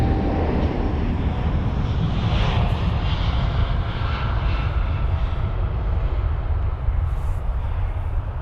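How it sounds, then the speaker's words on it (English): A Boeing 787-8 Dreamliner jet taking off at London Heathrow, its engine roar loud and steady throughout with a broad rumbling wash of thrust noise. "we've already got another aircraft on the move. It's a 787."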